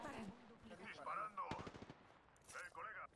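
Bursts of rapid video-game gunfire crackle faintly beneath excited voices talking over the action, with a dense volley in the middle and shorter clusters toward the end.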